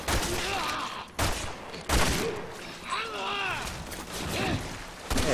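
Rapid bursts of gunfire from Resident Evil 6, several sharp volleys separated by brief pauses, heard alongside game noise and moaning creature cries.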